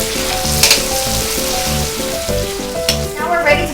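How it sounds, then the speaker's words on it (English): Chopped onions sizzling steadily in a hot pan for chop suey, a close, loud frying hiss with scraping stirs of a utensil repeating in an even rhythm, no talking. "Now I'm going to be stirring it for 2 more minutes."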